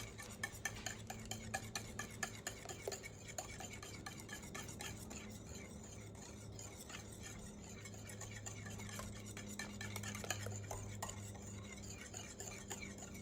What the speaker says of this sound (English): we're just gonna whisk this together with my second favorite whisk